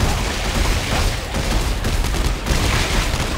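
Submachine gun fire in Dead Space 3, a dense, continuous rattle of rapid shots with loud, steady intensity throughout and no pauses.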